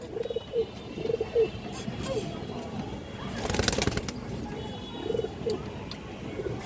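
Pigeons offered for sale, including female birds, coo in repeated low rolling phrases close by, with a burst of rustling or wing noise midway.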